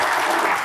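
A studio audience claps for guests from Indonesia's Attorney General's Office, a brief close burst of applause.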